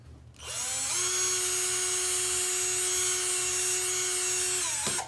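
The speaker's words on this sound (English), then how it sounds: "put in a different drill bit and make the hole larger." A power drill spins up and runs at a steady high whine for several seconds, loud and close, then winds down, as a larger bit enlarges a hole in a belt.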